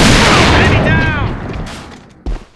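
Gunfire in the online shooter AVA strikes a wall, opening with a loud burst of shots that fades into a decaying echo and ends with one more sharp report.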